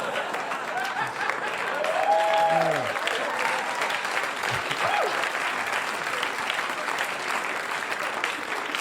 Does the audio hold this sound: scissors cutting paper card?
no